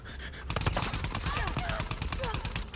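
Rapid automatic gunfire from The Last of Us Part II, a loud, steady burst of evenly spaced shots after a brief quieter opening, with a voice briefly heard over it.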